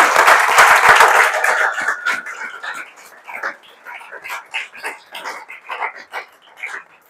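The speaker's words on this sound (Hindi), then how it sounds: "इन लोगों के लिए एक बार ताली बजा दीजिए आप लोग।" An audience applauds JEE Main exam toppers, a dense burst of clapping for about two seconds that thins into scattered, uneven claps, with a voice speaking over the start.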